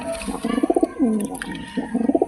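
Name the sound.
pigeons cooing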